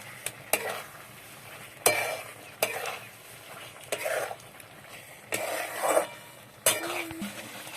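Potatoes frying with spices in a pan crackle faintly while a spoon stirs and scrapes in short bursts about once a second, close and clear.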